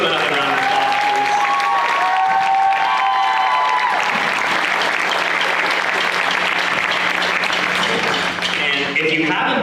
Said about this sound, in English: So can you give them another round of applause, please?